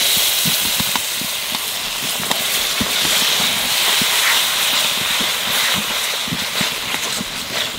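Tomato puree hitting a hot pan with ginger, garlic and green chilli paste, giving a steady broad sizzling hiss throughout, close and fairly loud with small pops and clinks.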